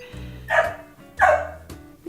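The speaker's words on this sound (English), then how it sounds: "That's his little bitch bark." A small dog barks twice, sharp and close, in short yappy bursts about a second apart, with a low growling rumble underneath and a third bark just starting at the end.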